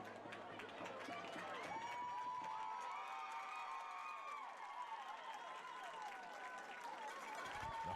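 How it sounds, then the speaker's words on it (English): A hometown crowd at a high school Bruins game in Tunnel Hill, Georgia, cheers and claps in a sustained roar that swells and fades, with shouts and whistles layered over the noise. "The hometown crowd cheering on the Bruins here with a 7-0 lead."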